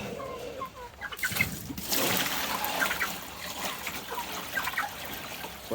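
Fresh water is poured for farm chickens, a close splashing, trickling stream that starts after a second and runs steadily. Hens cluck and chirp softly around it.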